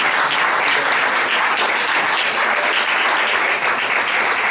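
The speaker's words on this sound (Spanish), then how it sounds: "un fuerte aplauso para nuestro amigo Romualdo" A poetry evening audience breaks into loud, sustained applause, a thick, close sheet of clapping hands that holds steady throughout without speech.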